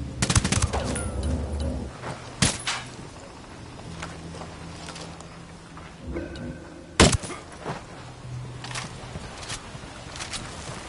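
Gunfire in Ghost Recon Wildlands, bursts of automatic and single shots at varying distances, with a few sharp loud cracks standing out over a steady low background of game ambience.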